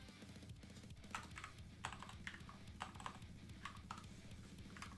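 Typing on a computer keyboard, with quick irregular key clicks running steadily throughout, close and fairly faint, with no talking.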